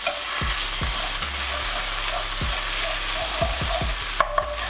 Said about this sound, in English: grab yourself a pan, heat with a good touch of oil. Add in some of the leftover paste.